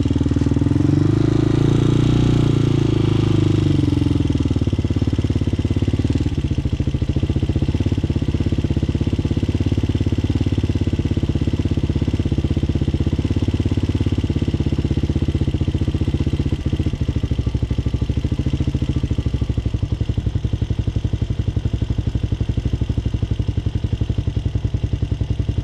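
A Hawk 250cc motorcycle engine runs steadily at idle, a continuous loud, close rumble with a slight clatter that starts rougher and higher at first, then settles into an even putter, with no voices.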